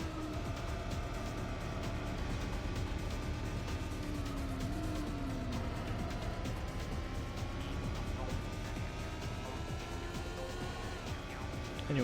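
Ferrari 355 racing a lap in Need for Speed III: Hot Pursuit, its engine a steady loud drone with pitch sweeps as it shifts and accelerates, continuous throughout with no talk.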